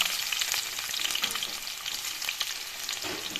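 Chopped onions fry in hot oil with cloves, cardamom and cinnamon pieces, a dense continuous sizzle up close with occasional stirring clicks and scrapes.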